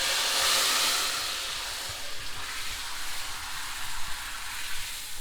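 Curry oil poured into pepper water: a loud hiss and sizzle right away that eases into a steady, quieter crackle with faint bubbling.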